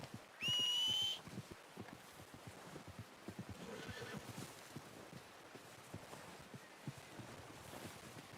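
A horse in Red Dead Redemption 2 whinnies loudly once, a rising then falling neigh, followed by quiet ambient rustling and soft movement sounds.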